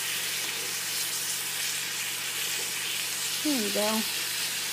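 Pork cutlets sizzle steadily in a hot frying pan, a soft, even frying hiss with a low hum beneath, while a voice speaks briefly near the end.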